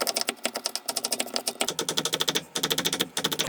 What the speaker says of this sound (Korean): 이렇게 잘게 다져주세요.